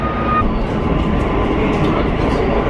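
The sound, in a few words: metro train ride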